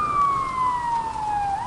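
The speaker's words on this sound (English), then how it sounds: "He took off with lights and siren blaring." A loud police siren wails close by, its tone sliding slowly downward in one continuous sweep.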